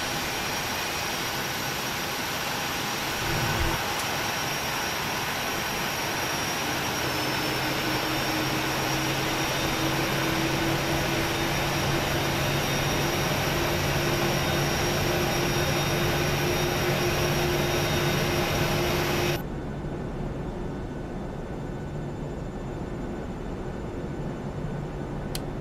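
A jet airliner takes off in the Prepar3D v4.1 flight simulator, its engines a loud, steady roar with rising whining tones as they spool up over many seconds, before the bright upper hiss drops away abruptly near the end.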